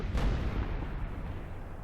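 Cannon fire in the Call of Warhammer game rolls out as a single low, distant boom that fades into a rumbling field-battle background, with no talk over it.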